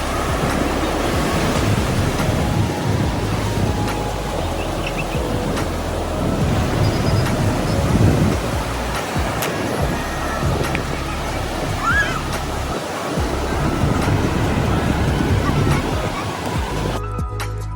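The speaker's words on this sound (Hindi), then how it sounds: "अब जरा इन लहरों का म्यूजिक तो एंजॉय कीजिए।" Ocean waves breaking on Baga Beach in Goa, a continuous loud wash of surf rolling in and receding with steady broadband roar, heard alone without talk.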